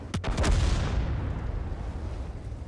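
A fire reserve artillery strike in World of Tanks lands as a burst of several sharp, booming impacts at the start, each quickly following the last. A long, loud rumbling tail then fades slowly.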